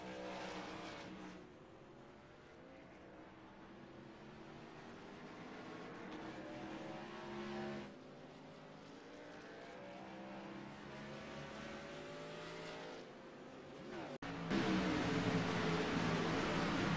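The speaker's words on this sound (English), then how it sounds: "a bunch of cars getting collected in that wreck" Race cars in a multi-car wreck in a NASCAR-style racing video game, engines droning and shifting pitch over a steady bed before a sudden louder burst near the end.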